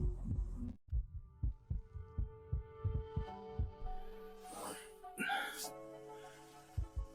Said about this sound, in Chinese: 听到了，咚咚咚，大概15秒一次，跟烧锅炉似的